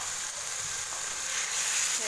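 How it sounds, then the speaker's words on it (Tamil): Ginger garlic paste sautéing in a pan for a Tamil-style egg gravy gives a steady, dense sizzle and fry hiss that runs unbroken from start to finish, close and fairly loud, with no voice over it. "இஞ்சி பூண்டு பேஸ்ட் சேர்த்து நல்லா வதக்கி விட்டாச்சு"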